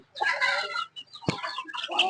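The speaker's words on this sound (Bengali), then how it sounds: "এই যে মুরগিটা" A domestic hen clucks twice close by, short raspy calls separated by a brief pause.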